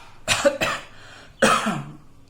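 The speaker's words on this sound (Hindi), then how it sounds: "थोड़ा सा खांसी आ गया" Three harsh coughs close up, two quick ones then a third after a short pause, with no talking.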